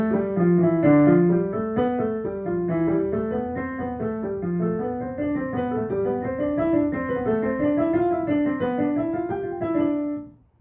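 Piano scales played with both hands in matching cadence, a steady run of notes climbing and falling repeatedly for about ten seconds, clear and close, then ending abruptly, with no talking.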